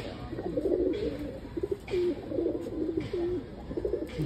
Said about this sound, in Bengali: এইসব কবুতরগুলি মোটামুটি হাইট নিয়ে উড়ে